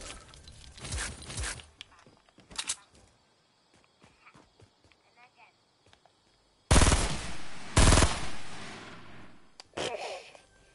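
Rapid automatic gunfire bursts from the video game Fortnite, loud clustered volleys at the start and again near the end with quieter footsteps and clicks between, and a voice speaking briefly.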